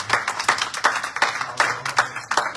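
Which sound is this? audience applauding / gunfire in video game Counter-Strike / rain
audience applauding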